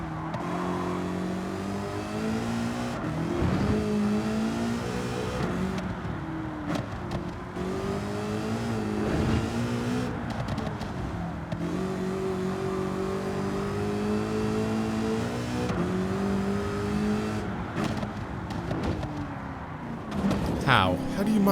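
A car engine in Gran Turismo 7 revs continuously, rising and falling through repeated accelerations and gear changes, steady and prominent throughout with a person talking over it.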